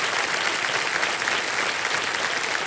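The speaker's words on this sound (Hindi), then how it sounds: "स्वागत एक बार फिर जोरदार तालियों के साथ उनका" A studio audience on the quiz show Kaun Banega Crorepati bursts into dense, steady applause, a full wash of clapping hands that holds evenly throughout with no talking over it.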